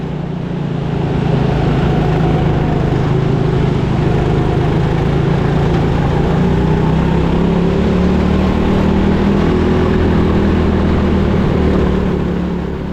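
A go-kart engine races around an indoor track in a hangar, a loud buzzing drone with shifting pitch as it speeds up and eases off, steady throughout with no talk.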